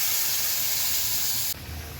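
A loud, steady sizzling hiss of water poured into a hot pan of vegetable curry mixture, breaking off abruptly near the end into a lower bubbling rumble.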